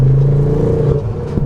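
A Ford Fiesta RS with a five-cylinder engine and an aftermarket exhaust revs loudly and close by. A deep, steady engine drone fills the short burst, and no other sound is heard.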